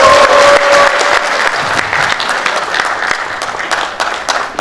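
A packed hall of around 500 to 600 regional assembly members at a decentralization rally in Korea gives loud, sustained applause welcoming a five-term National Assembly member, dense clapping throughout with a faint tone early on.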